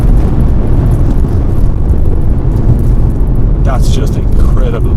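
An Audi RS6 quattro engine pulls hard under acceleration as a loud, steady roar with heavy low rumble, and someone speaks over it from inside the car.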